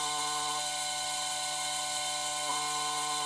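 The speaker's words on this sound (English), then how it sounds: "I will turn it on right now, and that's the grinder without any beans in." A GEIMORI GU38 small electric coffee grinder runs empty with no beans, giving a steady, even motor whine with a high tonal hum that holds constant throughout, close by and alone.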